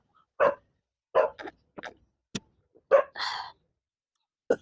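A dog barks in a string of short, separate yelps and woofs, roughly seven of them at an uneven pace, fairly close.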